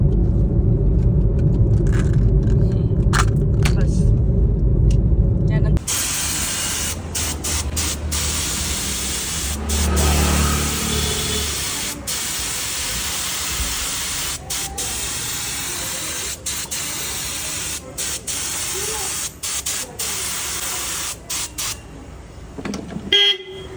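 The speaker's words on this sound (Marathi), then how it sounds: "एवढी ट्रॅफिक आहे बघा" Busy road traffic crawling through a crowded street during Ganpati festival celebrations, a steady rumble and hiss of engines with repeated short car horn toots scattered throughout, after a quieter opening stretch.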